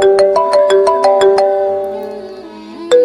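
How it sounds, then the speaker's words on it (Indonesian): A mobile phone ringtone plays a bright, repeating electronic melody of quick tones, loud and close, then trails off before another note starts. "Tiba-tiba ponselku berdering."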